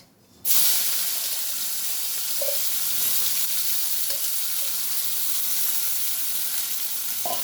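Chopped onions dropped into a hot pan after dried fish has been fried, bursting into a loud, sudden sizzle that settles into a steady, close frying hiss with a few faint clicks.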